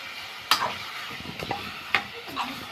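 Shrimp fry in a pan for a seafood soup, giving a steady close sizzling hiss broken by a few sharp spatula scrapes and knocks.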